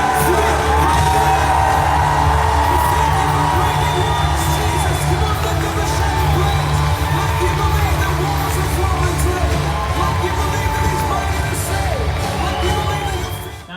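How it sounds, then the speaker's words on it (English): A church congregation shouting praise together: a loud, sustained roar of many voices with yells and whoops, holding steady for over ten seconds before trailing off. "would you lift up a shout of praise that will break through that wall?"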